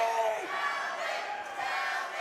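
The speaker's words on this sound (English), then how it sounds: "Hear the crowd getting loud." A boxing crowd swells into a loud, continuous roar of shouting and yelling during a late round, broad and sustained with some voices rising above the din.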